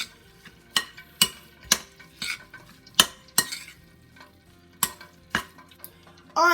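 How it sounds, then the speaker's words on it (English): A spoon stirs a Cajun seafood ball mixture with seasonings in a bowl, giving sharp knocks and scrapes against the bowl at an irregular pace, heard close with no talking. "And all we do is just stir all these ingredients together until it's well incorporated."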